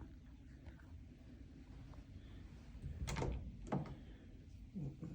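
A closet door opens in a quiet room: a couple of short sharp clicks and knocks stand out over a low steady hum, followed by a softer bump near the end.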